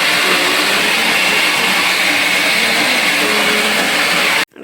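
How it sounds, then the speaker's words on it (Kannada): A kitchen mixer grinder runs continuously at home, a loud, steady whirring drone that holds unbroken for several seconds and then abruptly stops, with no talking. "ಒಮ್ಮೆ ಮಿಕ್ಸಿ ಆಗ್ತಾ ಇರೋದು"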